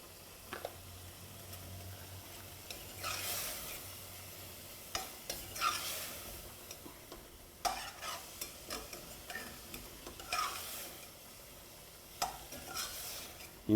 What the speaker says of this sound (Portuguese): enquanto eu refogo a cebola e o alho,